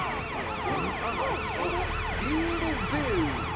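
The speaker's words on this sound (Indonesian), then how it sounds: "Nyalakan lampu dan sirene" A cartoon truck plays a loud, continuous wailing ambulance siren, with several overlapping sweeping tones that rise and fall rapidly, and no talking over it.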